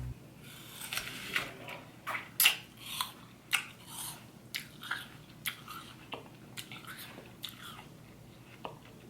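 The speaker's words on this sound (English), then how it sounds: "Let me bite this apple." A green apple is bitten with a sharp crunch up close, followed by a series of softer, irregular chewing crunches, quiet and intimate with no speech.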